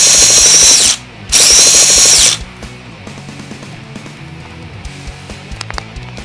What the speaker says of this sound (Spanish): entra la pistola eléctrica por aquí, se le aprieta el botón y arrancamos el motor full start.